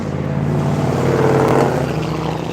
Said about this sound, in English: they got some interesting, cool cars, and they're loud